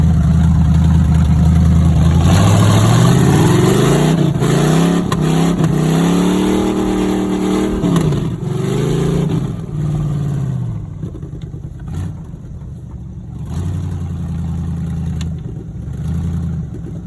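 A $130 1984 Pontiac Grand Prix race car revs loudly and continuously through a donut, engine pitch sweeping up and down, steadying, then dropping back to a lower drone near the end.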